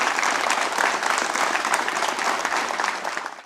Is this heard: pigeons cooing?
no